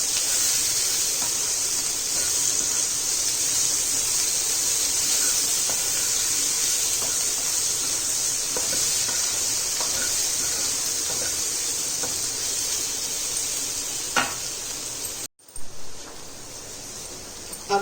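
Potatoes frying in a pan for an aloo khasta filling give a steady broadband sizzle that holds for about fifteen seconds, with small crackles scattered through it. It cuts out abruptly near the end, then briefly returns.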